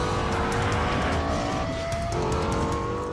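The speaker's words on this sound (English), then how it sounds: "Highest revving V10 engine in a production car." A loud, dense roar of a Lexus LFA's high-revving V10 engine, sustained and close, with a sharp whining pitch over the rush.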